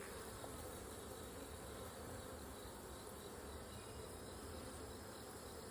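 Honeybees at an open backyard hive during an inspection make a soft, continuous buzzing drone, faint but constant throughout, with no one talking.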